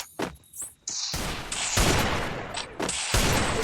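Gunfire in a shooting video game rings out in loud, sharp bursts and rapid volleys, with short gaps between the shots.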